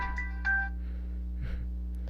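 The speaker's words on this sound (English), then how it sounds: "Default notification sound." A Unihertz Jelly Pro phone plays its default notification sound, a short bright two-note chime near the start, followed by faint softer tones over a steady low hum.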